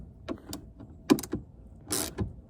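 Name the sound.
socket ratchet tightening 7 mm bolts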